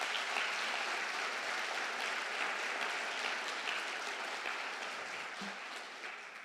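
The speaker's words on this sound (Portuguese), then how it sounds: "Você pode aplaudir?" A church congregation claps steadily in a sustained wash of applause that fades slightly toward the end, with no voices over it.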